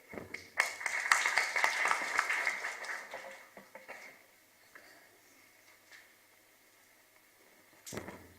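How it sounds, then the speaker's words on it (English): Audience applause at a conference session after a young presenter finishes, a loud burst of clapping that swells and fades over a few seconds, with a brief clap or knock near the end. "I think we have to clap very big clap for our young man who is presenting their very well"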